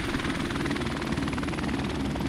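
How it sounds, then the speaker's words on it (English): Helicopter rotor chopping steadily and loudly throughout in a multiplayer shooter match, with a dense continuous drone and no talk over it. "Helicopter's putting in work for me"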